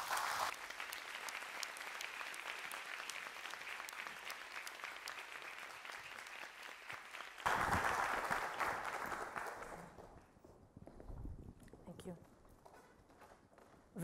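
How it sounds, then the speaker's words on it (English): Lecture-hall audience applauding to welcome a professor, a dense, steady clapping that swells briefly before fading into quieter shuffling and movement, ending near silence. "Please give a warm welcome to Professor Lily Kong."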